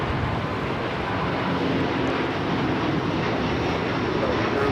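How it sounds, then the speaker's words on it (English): A China Airlines Airbus A350-900 takes off from Los Angeles LAX, a continuous broadband jet roar at moderate distance that stays even and unbroken throughout. "China Airlines Flight 5 taking off to Taipei on the A350-900."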